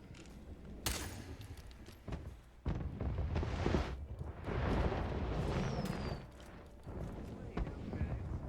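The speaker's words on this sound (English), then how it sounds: "Aren't there fireworks going on?" Fireworks going off inside a Hitman speedrun match in a Roulette Rivals competition, several sharp bursts and crackling pops spread across the stretch while a commentator talks over them.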